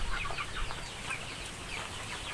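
Free-range Basilan native chickens cluck softly in a netted coop area, a loose scatter of short calls over steady outdoor background noise.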